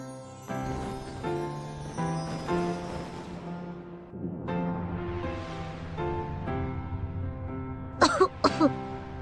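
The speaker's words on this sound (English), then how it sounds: "you're coughing because of the smoke" A couple of sharp coughs burst out near the end, after a long stretch of steady tonal background noise.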